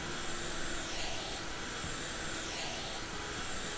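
The window cleaning tool in the House Flipper video game gives off a vacuum cleaner noise, a loud continuous whooshing roar that stays steady throughout.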